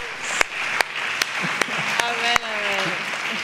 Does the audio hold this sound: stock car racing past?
no